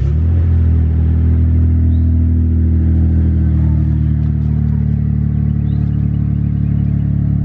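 Mitsubishi GTO and Nissan 180 engines with the exhaust silencer removed, running loud and close in a steady low rumble and drone with slight revving swells, no voices.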